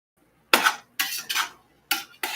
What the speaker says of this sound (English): And let me stir